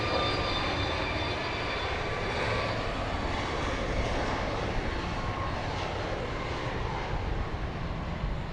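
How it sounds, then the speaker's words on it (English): A passenger airplane lands on the west runway at Dallas Love Field, giving a steady, continuous broadband roar that holds at an even loudness throughout with no talking. "from screen left and landing to the right, they're on the west runway."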